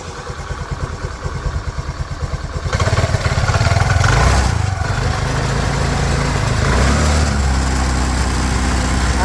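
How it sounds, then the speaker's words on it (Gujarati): A repaired scooter engine runs steadily after engine work, starting with a fast rough clatter and settling into a loud, continuous mid-pitched idle that goes on alone with no talk. "એન્જિન ચાલુ થઈ ચૂક્યું છે આ વોઇસ નોઇસ એન્જિનનો સાંભળી શકો છો"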